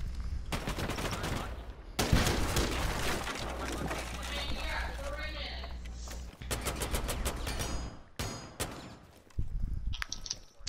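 Rapid bursts of automatic gunfire in Rainbow Six Siege, loud volleys of shots with sharp isolated cracks later on, over busy game sound and some talk.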